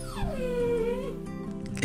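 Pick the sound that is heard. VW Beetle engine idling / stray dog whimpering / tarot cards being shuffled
stray dog whimpering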